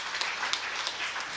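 Applause during a church service, a brief burst of dense clapping from a congregation with a few sharper claps standing out, close and fairly loud, no voices.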